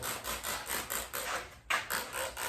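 Close, rhythmic back-and-forth scrubbing of rusty metal on an FJ-40 Land Cruiser body wetted with phosphoric acid. About nine even rasping strokes with a brief break midway, and no voices.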